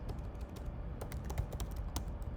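Fingers type an SQL query on a computer keyboard, a quick irregular run of close, crisp key clicks with no talking.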